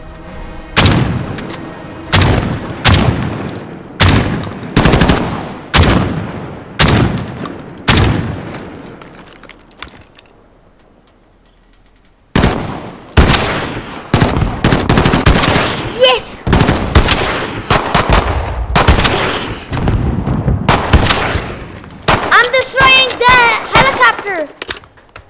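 Call of Duty gunfire rings out in loud, sharp bursts of rapid shots in a regular pattern, goes quiet for a moment midway, then returns as heavier, denser volleys.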